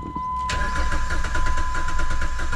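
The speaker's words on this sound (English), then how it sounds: "All right, so we're gonna do a clear flood crank." A misfiring Jeep engine cranks during a clear flood crank, with a brief starter whir followed by a loud, close, uneven rhythmic churning that continues throughout.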